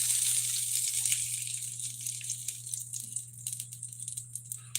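Turkey sausage cooking in a pan, a faint steady sizzle and crackle with a low hum beneath, no talking.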